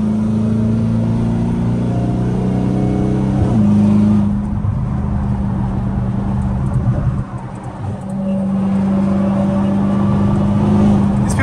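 A Dodge Hellcat heard from inside as it drives, its engine holding a deep steady drone, rising in pitch as it accelerates, then easing and pulling again, loud and close throughout.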